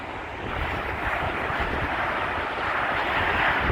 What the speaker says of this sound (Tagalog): Ayan po, dagat po yan dyan